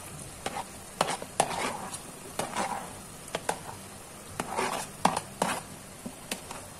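Fried onions and bell peppers being stirred into kadhai paneer in a pan, irregular spoon clinks and scrapes over a soft sizzle, close and moderately quiet with no talk.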